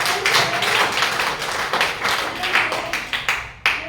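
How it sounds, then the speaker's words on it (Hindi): A small group at a real estate company meeting claps for Veena, a few seconds of brisk, close handclaps from several people that thin out into scattered final claps near the end. "वीना जी के लिए तालियां।"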